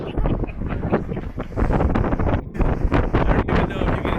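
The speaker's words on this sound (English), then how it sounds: "It's a little bit windy up here though." Strong gusts buffet the microphone on the upper deck of the Carnival Pride cruise ship, a steady roaring rush of wind with bursts and dips throughout.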